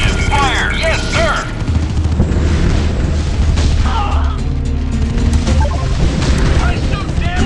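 A battle in the mobile game Art of War 3: dense, continuous booms, blasts and rapid gunfire at high volume, with shouted in-game voice lines mixed through the din.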